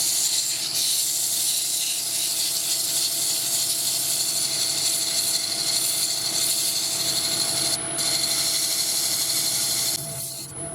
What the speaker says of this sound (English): Now I'm going to go through the grits from 150 to 400.